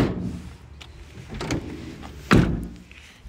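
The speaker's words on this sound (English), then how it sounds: "So we'll shut the doors." A few soft knocks and rattles, then a single solid Vivaro/Trafic van door thuds shut nearby, followed by quiet.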